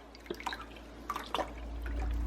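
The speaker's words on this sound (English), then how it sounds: "I'm gonna go ahead and put a couple cups of the chicken broth in" Chicken broth pours into a crock pot, starting as faint drips and splashes and then becoming a steady, soft stream of liquid near the end, quiet and close.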